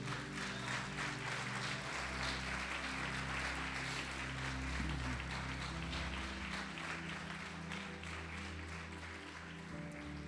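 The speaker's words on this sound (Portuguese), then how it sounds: "Quem crê pode aplaudir o Senhor" Church congregation applauding together during a service, a dense, continuous wash of clapping that holds steady for about ten seconds, with a low hum underneath.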